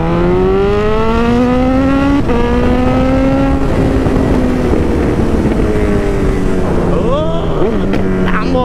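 A motorcycle engine roars loudly and steadily, revving up through rising pitches with a brief gear change, then rapidly winding and dropping near the end; the engine noise fills the whole stretch without talk.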